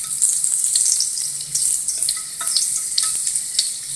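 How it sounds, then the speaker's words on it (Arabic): Chicken and chili fry in hot oil in a pan for Korean spicy braised chicken, a loud close steady sizzle with crackles and popping spatters throughout, no talking. "احط الفراخ في الزيت هيكون الفراخ ليه نكهه، يقوم الفراخ تتشرب الطعم بتاعها"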